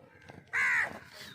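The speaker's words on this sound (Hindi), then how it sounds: "ये कौवा बोलता है, ये मेरे पीछे भी तंग कर रहा है काफ़ी।" A single drawn-out crow caw, moderately loud and somewhat distant against a faint outdoor background hiss.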